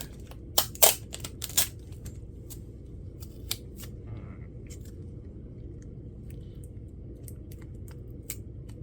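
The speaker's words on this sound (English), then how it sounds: "get a little bit more tape" Adhesive tape crackles and snaps as it is pulled and cut for a sewing project, a cluster of sharp close clicks and tears early on, then sparse faint ticks over quiet background hum.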